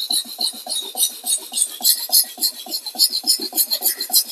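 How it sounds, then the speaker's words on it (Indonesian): A knife is sharpened on a Tirol corundum whetstone of 800 to 1000 grit, producing close, rhythmic rasping strokes in a steady back-and-forth pattern that repeats evenly throughout. "kita langsung asah. Kita pakai batu korundum ini karena menurut saya sih ini korundum Tirol ya"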